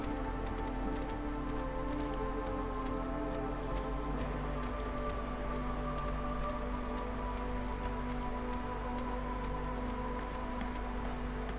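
Steady drizzle from the video game Against the Storm patters continuously in the background, a dense, even hiss of light rain that stays constant with no talking.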